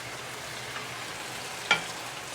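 Mushrooms and peas stir-frying in plenty of cooking oil give a steady soft sizzle close by, with one brief sharper scrape or clatter partway through.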